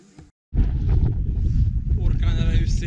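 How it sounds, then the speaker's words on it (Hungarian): Strong gale-force wind buffets a helmet-mounted camera during a 100-mile mountain ultramarathon in southern France, a loud continuous roar of wind noise after a brief silent gap, with a faint voice underneath. "Orkán erejű szél fúj."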